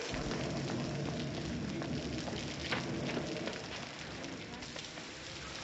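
Steady, dense rain hisses and patters continuously, filling the whole stretch with an even wash of noise.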